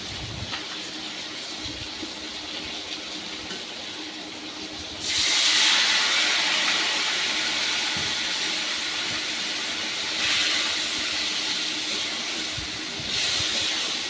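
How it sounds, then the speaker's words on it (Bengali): Spice paste of chilli powder fries in a pan for a Bengali aila fish curry, then bursts into a loud, broad hiss and sizzle as a little water is added, staying strong and steady with a second surge near the end. "মশলাটা যাতে পুড়ে না যায় তার জন্য একটু জল দিয়ে কষাবো"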